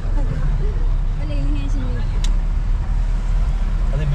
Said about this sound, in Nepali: ल हामी चाहिँ हिँड्यौँ अब वालिङबाट जिप जर्नी